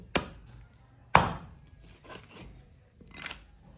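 Pomfret fish being cut into long thin pieces on a board, two sharp loud chops followed by softer scraping cuts, no talk.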